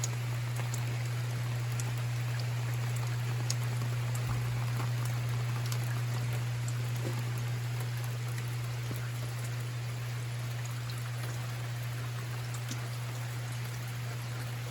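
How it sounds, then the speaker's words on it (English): Continuous rain hissing outdoors in Manitou Springs, Colorado, with scattered drips, accompanied by a constant low hum beneath it; no one speaks. "Kind of a rainy day here today."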